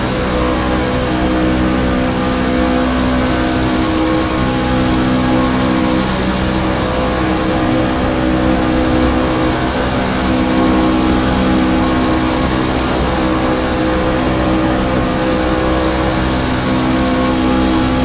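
Pickup truck race car engines in the iRacing game roar steadily and loudly without a break, a dense continuous mid-pitched drone of several engines running at sustained high revs together, with no talk.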